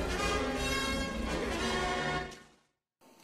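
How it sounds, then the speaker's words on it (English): Orchestral triumph theme from Raiders of the Lost Ark, a full loud ensemble passage that plays steadily for over two seconds and then cuts off abruptly, with a faint sound returning at the very end. "This melody could be called Indiana Jones Triumph Melody."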